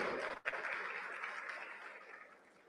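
Live crowd applause at a gospel concert launch show greets the visitors from Nova Brasilândia, a broad clapping wash that swells after a brief dip and then slowly fades away.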